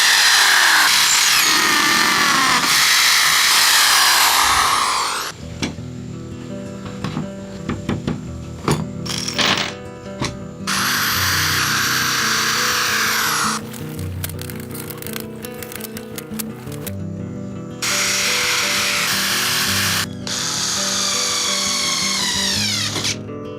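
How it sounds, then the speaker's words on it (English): A power drill with a hole saw bit bores into a wooden door to fit a lock, cutting in several loud, close grinding bursts separated by quieter pauses and scraping. "I'm gonna use the drill with that whole saw bit I showed earlier."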